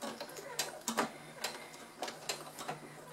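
A sewing machine stitches piping onto a fabric table set in short bursts of rapid clicking needle strokes, close and quiet, with brief pauses between runs.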